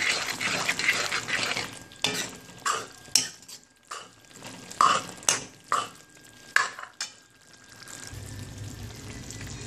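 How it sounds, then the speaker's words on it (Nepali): Nepali tomato pickle (golbheda ko achar) cooks in a pot while being stirred, with a quiet series of spoon scrapes and clinks against the pot between softer simmering, and no talking. "यसलाई यसरी छोपेर मजाले घोटी घोटी पकाउनुपर्छ"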